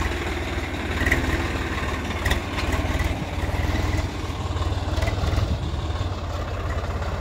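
A 48 HP Swaraj 744 FE tractor drones steadily while pulling a three-disc plough through soil, its engine chugging at a low, even rhythm with slight surges, close by and without talk.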